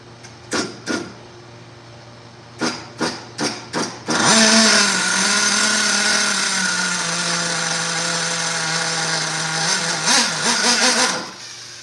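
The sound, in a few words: RC model nitro engine running and idling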